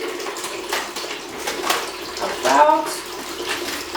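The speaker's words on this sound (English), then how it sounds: "But now I'm just gonna fill in with medium hot water" Medium hot tap water runs into a bowl, a steady splashing pour that swells louder near the end, with a voice speaking briefly over it.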